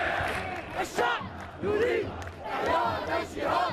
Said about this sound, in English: The people are calling for jihad, holy war, is the cry from the streets below.